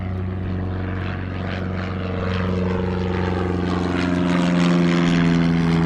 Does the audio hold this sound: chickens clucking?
no